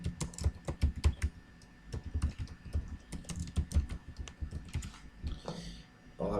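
Computer keyboard keys clatter in quick, uneven bursts close by, with short pauses between runs of typing, while entering a service item description in accounting software.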